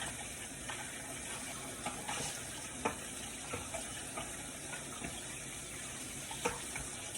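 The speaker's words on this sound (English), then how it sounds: "as soon as you start rinsing it, the better it is" Juicer parts being rinsed under a running tap, a steady broadband rush of water with small clatters and splashes of plastic pieces scattered throughout, fairly quiet and with no talking.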